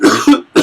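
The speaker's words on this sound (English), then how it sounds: "my cough is coming back apparently." Two quick, close coughs from a lecturer, sharp and loud, with a short pause between them.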